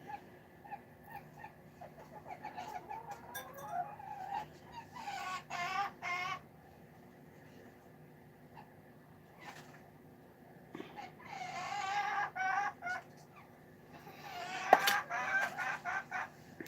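Several chickens cluck and call in short bursts, with one drawn-out crowing cry, spaced out over a quiet background.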